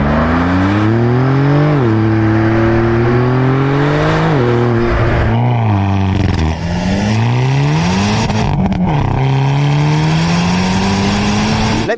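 Loud sports car engines, including a Porsche 911, roar and rev, pitch rising and falling through gear changes as the cars accelerate close by.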